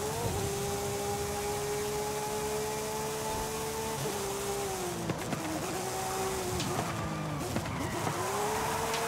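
A car drifts through an underground circuit custom event in Forza Horizon 5, the engine droning loudly and continuously as the tires skid, with the pitch dipping and recovering several times. No one speaks.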